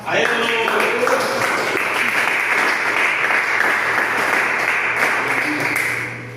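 A church congregation applauds together, sustained clapping rising quickly and holding steady for several seconds before tapering off, with a voice speaking over it.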